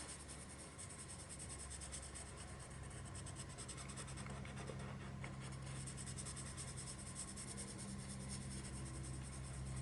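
Soft, continuous scratching of a white colored pencil across paper, quiet and close, with gentle back-and-forth strokes.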